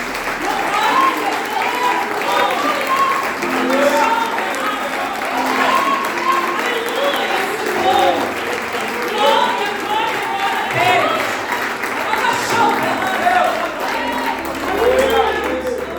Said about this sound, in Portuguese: Mas aplauda ao Senhor. Aplauda a Deus.